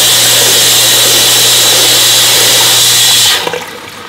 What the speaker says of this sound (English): That's normally how it cleans, and you can see the dirty water going out to the drain.